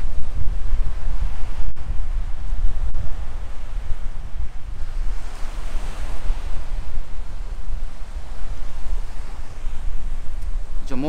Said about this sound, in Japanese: ちょっと風がね、すごいんですけど、どれぐらい風が収録されてるのか